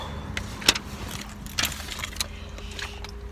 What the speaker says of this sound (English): Let me get in this car